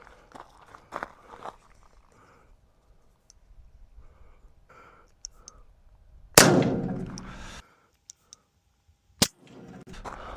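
A 5.7 round fired from a stowaway pistol at a Cybertruck gives one loud, sharp report with a decaying ring, then a second short sharp crack later, amid faint scattered handling noises and near-silence.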